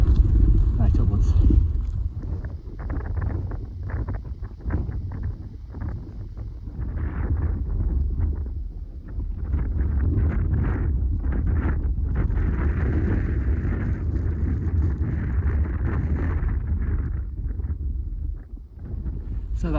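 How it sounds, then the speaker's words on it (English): Strong wind buffets a camera's internal microphone on an exposed Lake District fell ridge near High Rigg, a continuous loud low roar with gusty surges throughout. "Blowing an absolute hoolie, and with being on internal mic"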